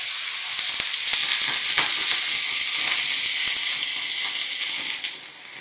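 Dosa batter sizzles loudly and steadily on a hot tawa, a continuous close frying hiss with faint crackles, easing slightly at the very end, with no talking.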